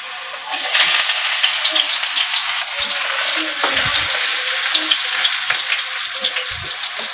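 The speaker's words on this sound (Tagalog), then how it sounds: "Tayo pa magigisa na." Food sautéing in a pan, likely with ground meat about to go in for a birthday meal: a loud, steady sizzle and crackle throughout, with occasional stirring knocks.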